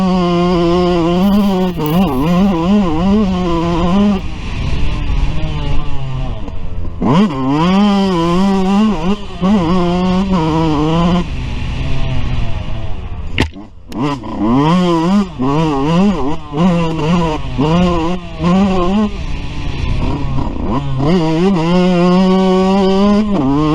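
Yamaha YZ125 two-stroke dirt bike with a Pro Circuit pipe revving hard while riding, its loud buzzing engine climbing and dropping through repeated throttle and gear changes with a brief lull midway.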